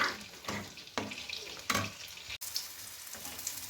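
Cabbage fries in a wok with a loud sizzle as a spatula scrapes and stirs it in regular strokes about every half second, close and continuous.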